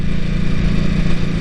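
A Ducati sport bike riding in touring mode on a cold mountain pass road in Japan, its engine a steady, loud, close drone with wind rush and no talk.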